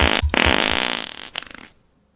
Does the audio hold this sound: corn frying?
no